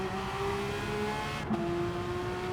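Porsche 911 GT3 RS (992) in Gran Turismo 7, engine revving steadily at high rpm with a smooth, toned-down, less shrill flat-six tone, loud and continuous, briefly dipping partway through.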